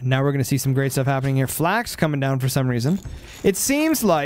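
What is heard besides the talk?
No everyday noise stands out behind the speech.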